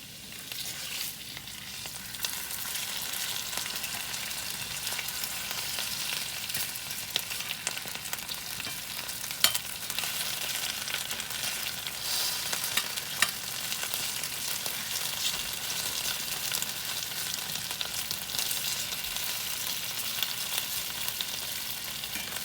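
Potatoes fry in a pan, left to brown undisturbed, giving a steady, dense sizzle and crackle that holds evenly throughout with no voices.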